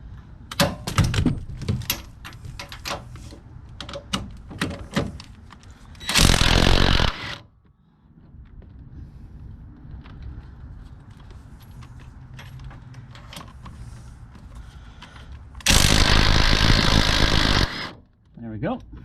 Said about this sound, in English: I'll get my impact and my 18mm with a long extension, and we'll get these off.